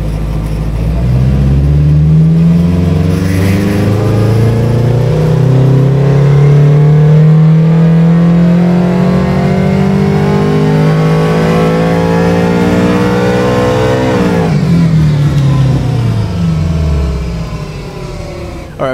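A car tuned with dual variable cam timing runs on a chassis dyno, its engine climbing in one long loud sweep of revs before the throttle lifts and the note drops away.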